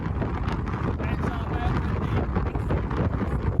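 Strong wind buffeting the microphone on a short ferry crossing from Largs to Great Cumbrae, a loud, continuous roaring rush with no break and no clear voices.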